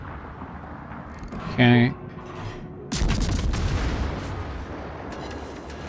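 Ship guns firing in World of Warships from the cruiser Hobart: a deep, loud booming salvo, then rumbling follow-up as shells fly, heard under a voice speaking briefly.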